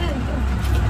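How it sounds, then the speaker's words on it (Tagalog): A bus at a roadside pickup stop on a road under construction after rain, its low engine rumble continuous and close, with people talking over it. "Ito na yung bus."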